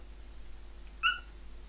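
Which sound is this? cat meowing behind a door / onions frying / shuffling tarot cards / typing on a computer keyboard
cat meowing behind a door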